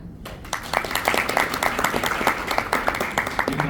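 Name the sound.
audience applause welcoming a speaker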